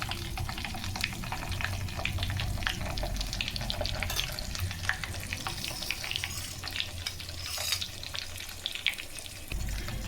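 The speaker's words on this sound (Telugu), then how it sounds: "ఆయిల్ కాగింది ఇప్పుడు ఇవి వేసేస్తున్న ఆవాలు మెంతులు జీలకర్ర" Mustard seeds, fenugreek and cumin fry in hot oil, giving a continuous close crackling sizzle with scattered pops and some stirring scrapes, and no voices.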